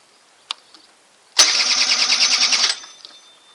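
Honda Vario scooter engine cranks on the electric starter: a brief click, then a loud whirring crank for about a second before the motor fades and stops, heard close up with no talking.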